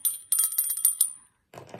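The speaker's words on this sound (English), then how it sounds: "ring that bell" A bicycle bell rings in a quick series of bright metallic dings, close and clear, then stops, leaving a short moment of quiet.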